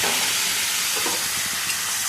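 Tomato paste frying in a pan: a dense, steady hiss fills the clip, a loud continuous sizzle with faint bubbling underneath.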